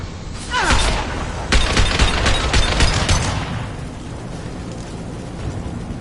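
Gunfire fills a Mass Effect firefight with the Blue Suns and Vorcha: a loud blast, then a string of sharp, close shots rattling in quick bursts for a couple of seconds before fading into a low rumble.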